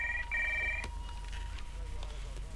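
A telephone rings with a bright two-tone warble for about a second, then stops, leaving a low steady hum under faint background noise as a call is placed.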